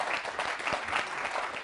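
Faint, distant applause from a small crowd, a continuous patter of many hands clapping without a break.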